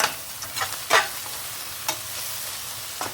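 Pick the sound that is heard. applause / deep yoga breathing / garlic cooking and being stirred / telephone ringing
garlic cooking and being stirred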